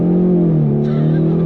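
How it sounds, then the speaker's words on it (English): A Ford Mustang EcoBoost turbo coupe accelerates from a dead stop, its engine droning steadily and loudly up close with a slight dip and rise in pitch, no voices. "We're gonna go on throttle from a dead stop."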